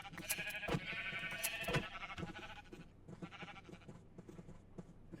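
Shorn Minecraft sheep bleat in a game pen, two overlapping bleats up front and then lighter clicking and quieter farm sounds trailing off.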